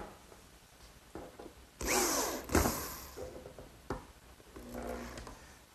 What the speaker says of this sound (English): I'll drill a hole right at the top edge